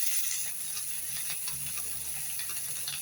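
Coconut pieces, green chilli and onion sauté in an oiled pan, giving a steady close hiss and sizzle with faint crackles throughout, no voices.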